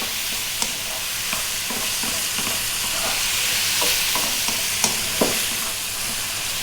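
Tomatoes seasoned with black pepper are stirred in a frying pan, a steady close sizzle broken by repeated scraping strokes of the spoon, with no talking.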